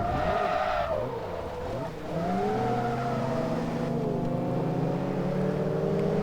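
Cars in the Forza Motorsport 2 racing game crash and skid, with a loud engine roar and drawn-out tire squeal sliding through a collision, then rising engine whine carrying on.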